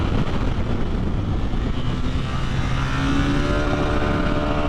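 A 2023 BMW R1250RS motorcycle engine revs hard against its rev limiter on the road, a loud, sustained engine drone with rising tones and wind noise throughout, no talking.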